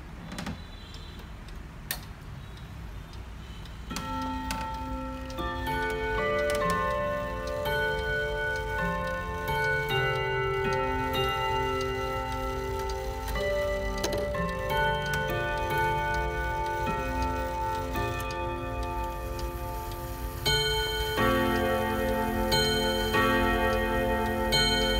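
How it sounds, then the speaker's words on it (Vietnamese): An antique clock, model 5410, chimes a melodic sequence of ringing tones that layer and sustain, starting after a few soft ticks and building into a rich, resonant peal. "quý vị và các bạn đang nghe tiếng chuông của đồng hồ 5410"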